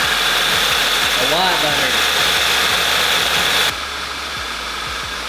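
A car engine with cylinder misfire trouble runs steadily at idle, a continuous close drone with a brief voice speaking over it.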